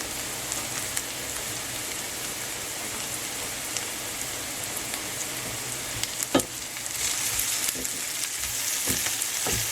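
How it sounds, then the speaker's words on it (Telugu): Onions frying with salt and green chillies for a mutton keema curry, a steady close sizzle with soft spoon stirs and a few sharp scrapes against the pan partway through. "బ్రౌన్ కలర్ షేడ్ వచ్చే వరకు వేయించుకోవాలి ఆనియన్స్ మగ్గడానికి కొంచెం సాల్ట్ నాలుగు పచ్చిమిర్చి"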